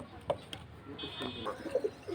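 High-flying pigeons coo faintly in short, soft bursts close by amid a quiet room, with a brief distant voice in the background.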